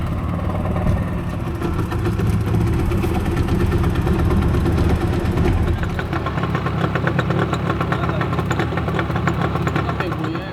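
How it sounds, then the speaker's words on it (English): A smoking boat engine idles and runs steadily near the shore on the Southern African coast, a loud, close, continuous mechanical drone with a slight shift in pitch partway through. "Engine is smoking up right from the beginning."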